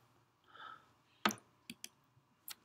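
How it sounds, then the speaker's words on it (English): A single sharp, close mouse click on a run button in circuit-layout software, followed by a few softer, scattered clicks in an otherwise quiet room with no talking. "then I click run"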